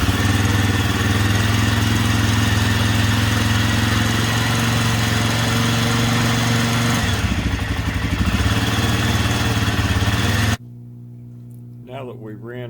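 A 1993 Suzuki DR 250 motorcycle engine with the choke pulled runs loud and steady up close, its idle wavering partway through, then cuts out abruptly near the end, leaving quiet room sound.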